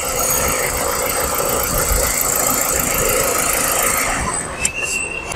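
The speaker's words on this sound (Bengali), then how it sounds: "তো ভিউয়ার্স, আপনারা দেখলেন ইঞ্জিনটিকে এখন চালু করা আছে।" A 2007 Mitsubishi Lancer EX with a 1500cc engine idles close by, a steady, even hum with no voices, and a brief high squeal cuts in near the end.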